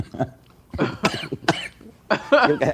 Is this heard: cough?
yes